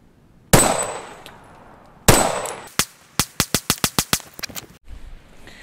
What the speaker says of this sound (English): So I'm gonna load them up, shoot them again.